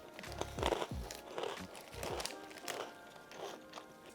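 Hula Hoops crisps crunched and chewed close to the mic, with several crisp bites and crackly chewing bursts at an uneven rhythm, fairly quiet overall.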